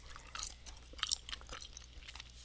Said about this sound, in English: I'm chewing crazy